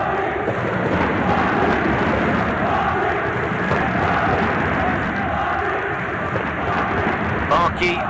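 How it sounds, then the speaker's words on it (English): A dense roar from a boxing arena crowd at an African Olympic qualifying semi-final fills the space, steady and loud throughout, with a commentator talking over it. "the cheer from the crowd"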